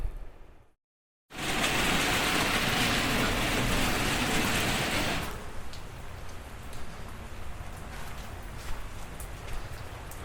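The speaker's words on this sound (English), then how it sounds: "it's raining" Rain falling outdoors, a loud dense hiss of drops on surfaces that starts after a brief silence and then settles into a softer, steady patter.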